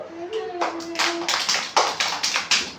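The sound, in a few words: group of children clapping in a classroom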